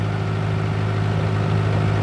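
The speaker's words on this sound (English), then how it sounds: "to see if this picks up the engine noise or not." A boat engine runs steadily on the Norfolk Broads, a constant low drone with a firm hum and no change in pitch.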